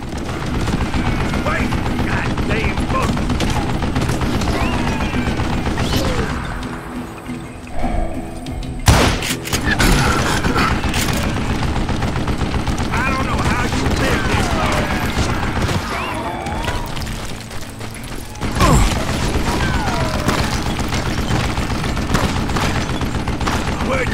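A rapid burst of gunfire comes from an old man's mounted gun in the Western shooter game Call of Juarez: Gunslinger, loud and dense with heavy thuds and booms that continue almost without pause, overlaid with game sound effects.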